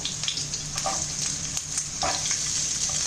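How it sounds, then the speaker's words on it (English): Garlic and onions sautéing lightly in a pan make a soft, even hiss, with occasional brief crackles and a few faint stirring scrapes, heard close and alone. "we have to just saute it lightly for a minute or so"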